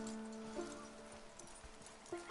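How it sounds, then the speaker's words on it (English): Horse in the Red Dead Redemption 2 video game, giving a soft whinny and snorts alongside light hoof clip-clops, fairly faint and close, with two brief vocal bursts. "This horse looks very, very strong."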